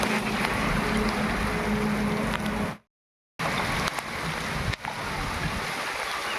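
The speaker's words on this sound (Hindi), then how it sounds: "बहुत ज़्यादा बारिश हो रही है, देखिए।" Steady, heavy rainfall hisses and patters close by, broken by a brief moment of total silence partway through before the downpour resumes.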